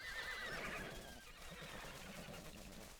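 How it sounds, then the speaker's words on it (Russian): A large herd of horses in a video game whinnies in layered, overlapping calls, strongest early on, then a softer steady murmur of hooves and neighs carries on. "Просто огромная куча лошадей, которые катятся"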